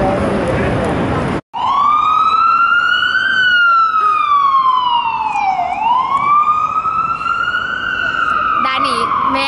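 An emergency vehicle siren wails loudly in Times Square, New York City, sweeping up and down in long rising and falling cycles after a brief opening burst of crowd noise and a sudden cut.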